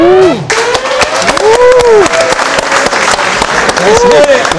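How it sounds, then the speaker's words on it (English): Crowd clapping and cheering at a rap battle event, loud sustained applause with sharp claps, mixed with shouting voices that rise and fall over it. "Let's get it clapping"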